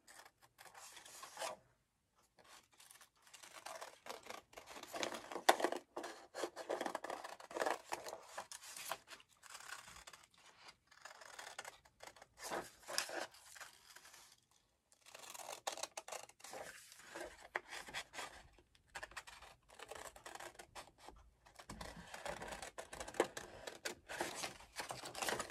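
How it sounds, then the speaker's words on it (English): Scissors cut through paper for Harry Potter-themed birthday party invitations, a long run of crisp rasping snips coming in bursts with brief pauses, close and quiet, with no talking. "Just listening to me cut paper"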